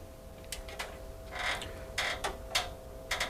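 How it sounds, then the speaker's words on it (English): Locking screws on a Hitachi ultra short throw projector mount being tightened, giving a series of small creaking, ratcheting clicks in irregular bursts, fairly close and quiet. "you need to tighten all the tightening screws to lock them into position"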